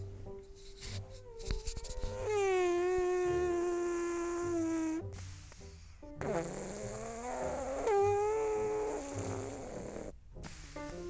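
Pug dogs snoring and wheezing nearby, several long, drawn-out nasal rumbles with whistling tones, alone and rising and falling with each breath.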